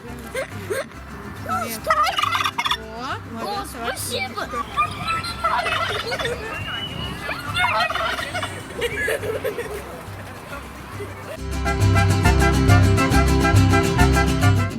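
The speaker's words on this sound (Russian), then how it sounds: "Индюки собрались и общаемся." Turkeys at a demonstration farm and learning centre gobble loudly in a rolling chorus, with a denser, louder burst of calls toward the end; brief speech is heard among the birds.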